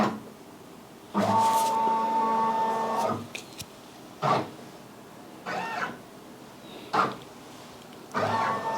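A Brother Persona embroidery machine running its trace feature moves the hoop in bursts of motorized whirring and buzzing, separated by quiet pauses, heard close with no talking.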